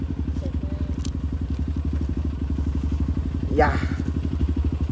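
A trail motorcycle engine runs steadily just after starting, a close, loud, even putter with a rapid regular pulse, while a person briefly speaks over it.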